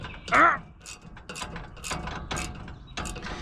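Hand tool tightening a fitting on a pressure washing truck build, giving a run of short ratchet-like clicks and metallic mechanism sounds at close range, in several bursts with no talk.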